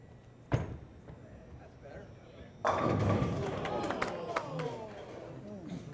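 A bowling ball crashes into pins at a scratch tournament, a loud clattering burst after an earlier thud, heard over crowd noise in a busy bowling alley.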